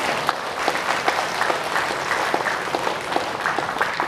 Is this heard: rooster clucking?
no